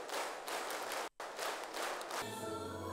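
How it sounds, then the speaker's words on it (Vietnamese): Brisk, dense applause fills a school opening ceremony, dropping out for a split second midway, then resuming and fading under a soft musical tone near the end. "Những tiếng vỗ tay rộn rã"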